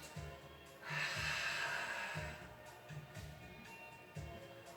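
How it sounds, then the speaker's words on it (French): A long, drawn-out breath during a Pilates exercise swells into a soft airy rush lasting more than a second, set against quiet low thumps at a regular beat. "Là, c'est une respiration prolongée."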